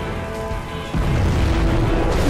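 A nuclear missile strike in the strategy game C&C Generals Zero Hour hits about a second in as a sudden deep boom, then keeps going as a loud, heavy rumble to the end, with no voices over it.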